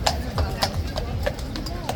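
Police horses' hooves clip-clop on hard pavement in a quick irregular rhythm, close by, with people talking over them, as a protest passes.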